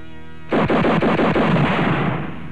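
A sudden loud gunshot bursts out, followed by a rattling, crackling roar that slowly fades, with no voices.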